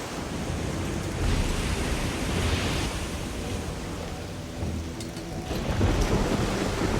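Stormy sea in the video game Risen 2: a continuous loud wash of crashing waves and wind with low thunder rumbling through, swelling again toward the end, with no voices.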